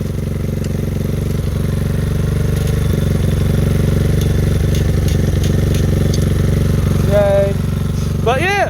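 Lifan KP Mini 300 motorcycle with a 4-valve ZS175FMN engine and upgraded carburetor, idling steadily with a loud, close, even drone, and brief high squealing tones near the end.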